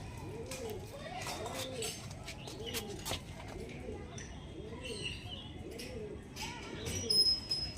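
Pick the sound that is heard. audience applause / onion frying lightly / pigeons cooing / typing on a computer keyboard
pigeons cooing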